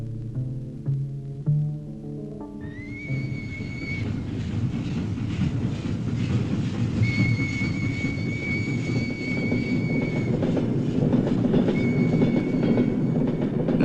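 Steam locomotive sounding a drawn-out whistle over a steady, loud rumbling chug that keeps going without a break.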